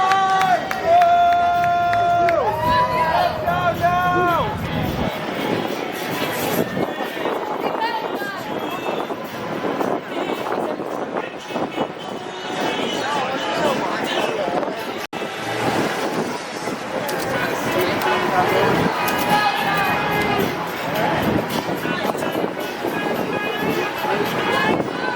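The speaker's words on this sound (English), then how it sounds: "A lot of vehicles from the NYPD and the Secret Service are following the presidential" A presidential convoy of NYPD and Secret Service vehicles rolls past the Stonewall Inn in Greenwich Village, New York City, their engines a steady rumble beneath a talking, occasionally cheering street crowd and gusty wind noise.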